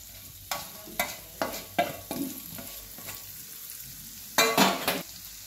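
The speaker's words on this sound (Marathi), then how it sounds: "आता मसाला असा भाजूया चांगला." Masala for a khar vangi dish frying in hot oil in a pan, stirred with a series of close scraping strokes over a soft sizzle, ending in a louder, longer double scrape.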